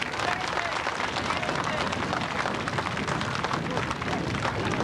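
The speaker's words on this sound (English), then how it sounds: "So please give him a big round of applause," A crowd at the Millennium Parade in Falcarragh, County Donegal applauds a government sports minister, dense sustained clapping heard steadily throughout, with voices murmuring underneath.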